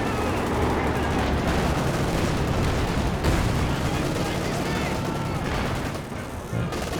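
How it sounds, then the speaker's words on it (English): Tank cannon fire and battle noise from a Panzer IV in a Company of Heroes 2 match, a dense continuous wash of gunshots and booms filling the whole stretch with a few sharper cracks, no clear talk. "Oh my god, both Panzer IV shots missing there."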